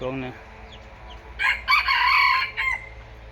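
A decoy jungle fowl rooster crows one full call near the microphone, with a shorter cluck-like note before it. Steady low ambient noise runs underneath, and no one speaks.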